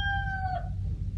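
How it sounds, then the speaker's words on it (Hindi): Rooster crowing once in a long, falling cry over a steady low rumble of background noise, fairly close and clear. "इसे एक तो चुप नहीं आती यार मुर्गे को"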